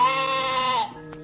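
A goat tethered in a forest, its legs tangled in tree roots, lets out a single sustained bleat, close and fairly loud, which cuts off abruptly with a faint short sound after it.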